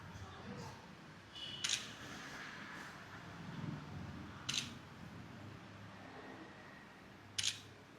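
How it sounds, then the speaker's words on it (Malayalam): A camera shutter clicks three separate times in a quiet indoor setting while food is being ordered, each crisp snap standing alone against a low background hum. "ഒരു ഫോട്ടോ എടുക്കട്ടെ"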